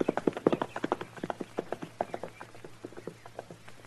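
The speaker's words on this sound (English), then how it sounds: "I left my horse over the rise there, Snyder." Horse hooves clip-clop steadily on hard ground as a radio drama sound effect from a 1953 Western, with a brisk, even rhythm of close, crisp strikes that fades slightly toward the end.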